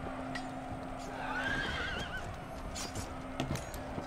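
Cavalry horses neigh in a battle in the video game Empire Total War, with one clear whinny rising over a busy background of hooves and distant battle noise.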